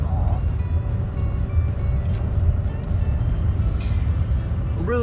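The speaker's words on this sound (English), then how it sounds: "Here's a car that we're coming up against." Oncoming small car passing on a twisting mountain road in Vermont or New Hampshire, a steady low engine and road rumble from inside a vehicle throughout.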